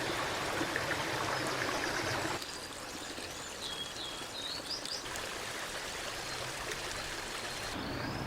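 Pumped water trickles and splashes continuously at a quiet level in a garden, with faint birdsong chirping in the background and no voices.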